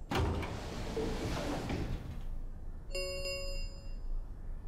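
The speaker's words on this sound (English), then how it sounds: "the warehouse was filled with the rumbling sound of the doors sliding shut" Heavy warehouse doors slide shut in the video game Zero Escape: Virtue's Last Reward, a loud, continuous rumbling roar for about two seconds that cuts off and gives way to a bright, sustained electronic chime.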